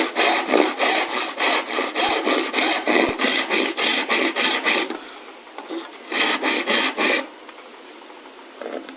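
A hand saw cutting wood along a marked line during cabinet hidden-box construction: close, loud rhythmic back-and-forth strokes in a steady run, a brief pause, then a few more strokes.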